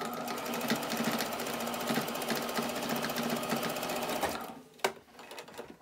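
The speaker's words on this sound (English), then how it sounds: "I'm just going to stitch it real quick on the machine" A sewing machine stitches fabric in a fast, steady rattling run for several seconds, close and clear, then stops, followed by a single sharp knock and faint handling noise.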